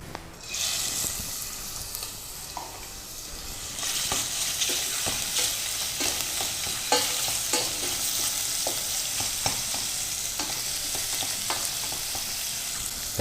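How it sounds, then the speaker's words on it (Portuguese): Meat sautés in a hot pan with a loud, steady sizzle and frequent scraping stir strokes. "Nós vamos começar então refogando a carne"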